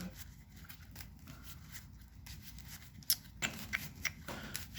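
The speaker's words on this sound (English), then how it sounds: "Shuffle, shuffle, shuffle. Shuffle in my deck." A deck of trading cards is shuffled up close, soft riffling and rubbing followed by several sharp, distinct snaps and taps of cards in the last seconds, with no voices.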